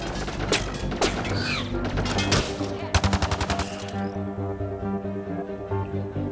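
A gun with heavy kick fires in Mass Effect Andromeda, sharp cracks arriving in bursts with a rapid volley near the middle, set against a continuous tonal game score.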